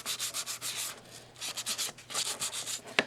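Hand sanding of a surface, with rhythmic back-and-forth strokes in quick, even bursts, close and clear, a short pause midway and then more strokes, with no one talking.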